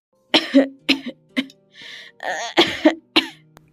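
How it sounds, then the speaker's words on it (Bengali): An elderly woman in a cartoon coughs in a rapid series of harsh, close coughs and throat clearing, loud and with no other sound around them. "দাদি তোমার কাশিটা বড্ড বেড়েছে"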